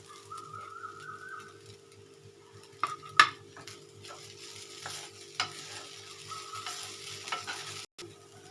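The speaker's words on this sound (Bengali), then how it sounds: "সিম করেই আমি এটাকে ভাজবো।" Sabudana khichuri frying on low flame with green chillies and ground peanuts, a quiet steady sizzle with occasional spatula scrapes and one sharp clink against the pan.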